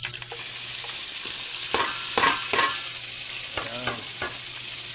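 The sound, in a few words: fish frying in oil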